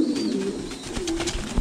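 Thai Titan meat pigeons, a large-framed breed, coo in low, repeated throaty notes close by, with faint rustling and a higher bird call in the background.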